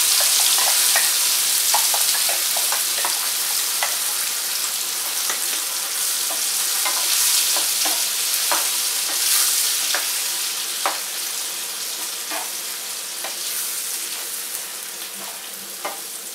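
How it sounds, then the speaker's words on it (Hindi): Spinach paste sizzles with fried paneer in a hot pan for palak paneer, a steady dense frying hiss carrying along with intermittent scrapes and clicks of stirring, gradually easing slightly in loudness. "अभी इसमें डालते हैं पालक की पेस्ट"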